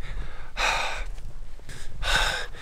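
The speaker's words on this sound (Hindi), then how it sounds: "बात करते करते कितना हाँफने लगा हूँ मैं" At high altitude on Taglang La Pass in Ladakh, a man pants for breath close to the microphone, with two loud, heavy exhalations and quicker gasps between them.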